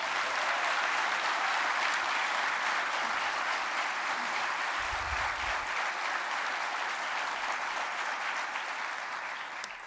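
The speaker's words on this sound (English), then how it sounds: "Please give him a round of applause." Sustained, dense applause from a large audience at a retirement ceremony for a U.S. military lieutenant general, steady and loud for the full stretch before easing slightly at the end.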